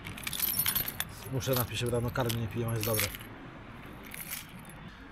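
A bunch of keys, including a new house key, jangles and clinks close by in quick bursts, under someone talking.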